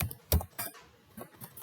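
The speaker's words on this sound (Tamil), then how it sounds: "கிளாஸ் நேம் டைப் பண்ணியாச்சு" A few quick keystrokes on a computer keyboard, soft and close, as a class name is typed into a UML diagram tool, with irregular clicks and short gaps between them.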